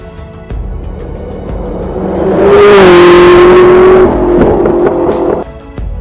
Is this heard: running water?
no